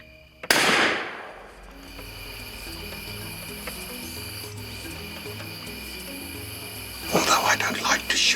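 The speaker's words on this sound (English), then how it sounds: "Although I don't like to shoot the sows, but I'm quite confident I made the right decision" A sniper rifle shot at a wild sow on an African hunt cracks loud and sharp near the start, then a low murmuring background persists with rustling and a burst of activity toward the end.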